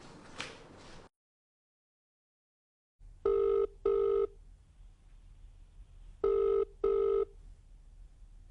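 A phone rings back in two pairs of double rings, clear and steady, after a brief voice at the start and a pause of silence, as someone places a call to check where a person is.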